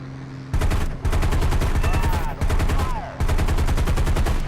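Rapid machine-gun fire from a P-40E-1 Kittyhawk's wing guns in the War Thunder air-combat game, loud bursts of rattling shots separated by brief pauses over a low engine drone.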